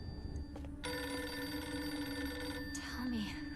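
A telephone rings inside a video game, a sustained bright trill running for a few seconds over low ambient rumble before cutting off.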